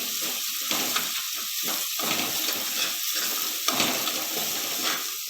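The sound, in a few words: curry leaves sizzling in hot pan for Jain poha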